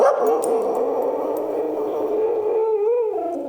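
An excited dog whines and yips in a continuous, high-pitched vocal stream, close and fairly loud, with no talking over it.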